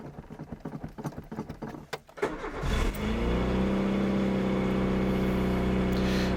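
An old car with the choke pulled and fresh spark plugs cranks in a series of rapid churning pulses, catches after about two seconds, then settles into a loud, steady idle up close.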